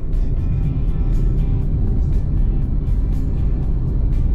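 A car driving on the road near Subic, heard from inside as a loud, steady low engine and road rumble with faint ticks of passing traffic and no talking.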